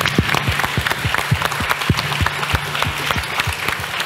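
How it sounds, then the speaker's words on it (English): A conference audience applauds its speakers at the closing session, continuous dense clapping with a few low thumps, loud and even throughout, with no speech. "Great applause for our speakers."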